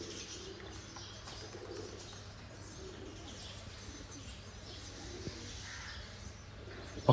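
Pigeons coo at the Surapura Dham temple in Bholad, soft repeated coos and chirps from several birds over a steady outdoor hum.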